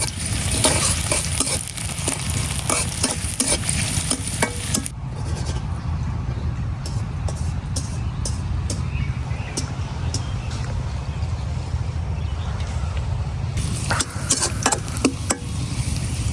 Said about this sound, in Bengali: পেঁয়াজটা আমি হালকা লাল করে ভাজে নিছি।